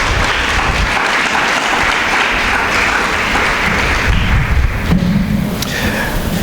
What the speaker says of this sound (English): Let's give them a round of applause this morning.